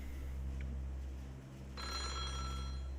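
An old telephone bell rings in the horror video game Otogirisou, a buzzy ring starting partway through over a steady low hum.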